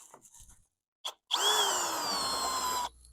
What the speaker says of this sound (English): I have to drill this hole out to a 3/4